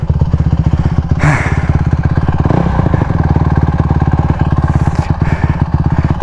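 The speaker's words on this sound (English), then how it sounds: "First kick on the bike like every time." A Yamaha YZ125 two-stroke dirt bike idling and blipping right next to the microphone, a loud, rapid ringing putter with brief throttle rises and clattery thumps, running steadily throughout.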